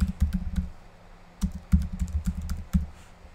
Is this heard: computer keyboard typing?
yes